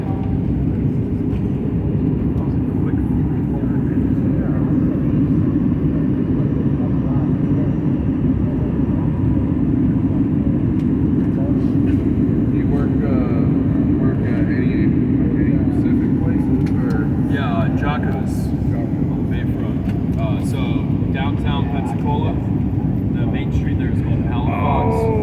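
American Airlines Airbus A320 cabin during landing at Charlotte: a steady, loud low roar of engines and airflow fills the whole stretch, with people talking faintly and rattles toward the end.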